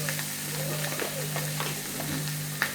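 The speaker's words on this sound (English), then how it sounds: "This is the sound of the barramundi skin hitting the fry pan." Barramundi fish skin sizzles in hot oil in a frying pan, a steady close crackling hiss with small pops throughout and no talking.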